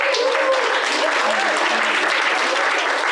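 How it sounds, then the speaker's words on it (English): A live audience gives a loud, sustained round of applause, dense close clapping that fills the whole few seconds, with voices faintly mixed in underneath. "Can we give a round of applause?"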